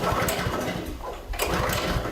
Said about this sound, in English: It's a water pump that's fueled by a Honda engine